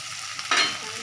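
Onions for ghugni fry in a pan: a quiet low crackle, then a sudden bright hiss as they are stirred, fading back down within a second.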